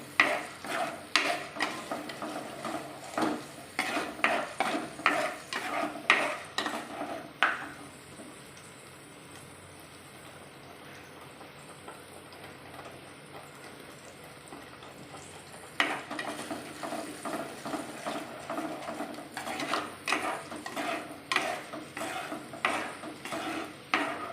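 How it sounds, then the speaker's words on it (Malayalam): Masala being sautéed in a pan for a Kerala-style fish curry, with bursts of scraping and stirring over a soft sizzle, a quieter stretch of gentle frying in the middle, then brisk stirring resumes; no talking. "ഇത് നല്ലോണം ഒന്ന് മൂക്കണം നല്ലോണം ഒന്ന് വഴറ്റിയെടുക്കണം"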